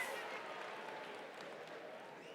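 Faint, distant applause from a crowd at a South African election rally, a dense steady patter of clapping blended with crowd murmur, fading gently.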